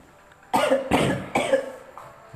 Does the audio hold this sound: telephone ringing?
no